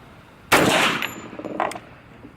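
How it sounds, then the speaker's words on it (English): A single loud, sharp unsuppressed .45 ACP pistol shot cracks out, followed by a short ringing decay and a few quieter knocks. "So first we have an unsuppressed 45"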